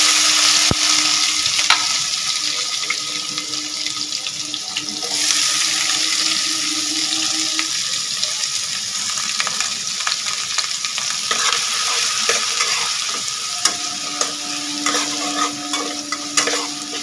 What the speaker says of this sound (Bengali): ফোড়নে দেবো একটু বেশি করে সাদা জিরে, পেঁয়াজগুলো দিয়ে দিলাম